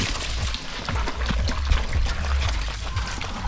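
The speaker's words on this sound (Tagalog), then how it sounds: "Nilalagyan namin ng tubig." Water is poured out for pigs on a hot day, a steady close splashing and gurgling stream hitting a surface, continuous with a low rumbling undertone.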